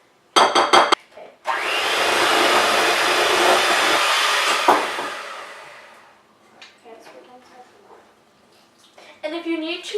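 Electric mixer beating batter on a low setting, a steady loud whir of several seconds that fades out, framed by brief bursts of people talking.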